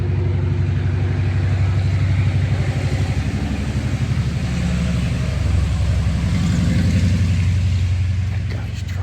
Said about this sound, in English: That guy's truck's loud.